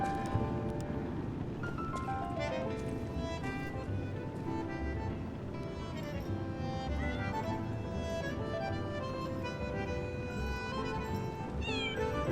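A cat meows repeatedly in the video game Lies of P, clear mews rising and falling over a steady bed of game music and ambience, with a final high rising call near the end.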